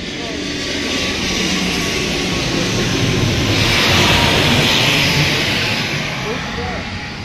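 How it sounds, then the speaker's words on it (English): Airplane landing near Koh Samui airport beside the Big Buddha Temple, a loud sustained engine roar and rushing whine that swells toward the middle and slowly eases off, with voices faintly in the background. "this place is very near the Koh Samui airport, so you can see them land right there"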